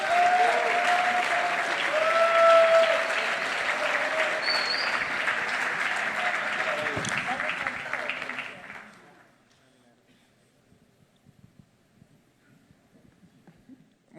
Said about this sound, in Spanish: quiero que le demos un fuerte aplauso de bienvenida a Cristian Rosas.